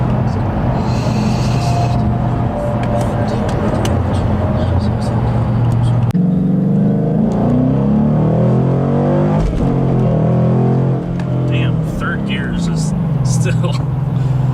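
Ford Mustang fitted with a cold air intake and engine tune, floored on summer tires in cold weather, its engine roaring loudly and steadily from inside the cabin as it accelerates hard, with a voice talking over it.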